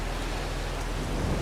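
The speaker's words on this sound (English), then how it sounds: "Got around one time before it started raining." Steady rain falls in the Farming Simulator 22 video game on a Missouri farm, a dense continuous hiss with low rumbling, filling the scene evenly without a break.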